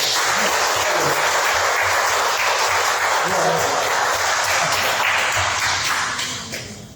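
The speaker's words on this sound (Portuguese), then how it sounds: "Aplauda a Deus." A church congregation at a Sunday evening service applauds in a loud, sustained wash of many hands that holds for several seconds, then fades at the end.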